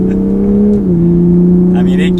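A Toyota Supra A90 engine climbing steadily under throttle in an automatic, a loud continuous drone with a slight dip in pitch partway through as it gains speed, holding close and even to the end.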